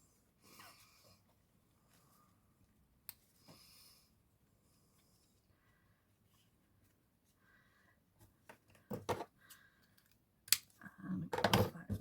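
Scissors snipping off excess ribbon while making a square-tailed boutique bow, a few sharp, close cutting snips clustered near the end after mostly quiet handling rustles, with no talk.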